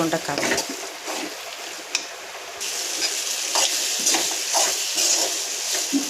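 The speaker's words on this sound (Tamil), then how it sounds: "இது நல்லா பச்சை வாசனை போகிற அளவுக்கு நல்லா வதக்கிக்கலாம்." Crushed turkey berries sauté in a pan as a steady, close sizzle fills the whole stretch, broken by occasional scraping stirs.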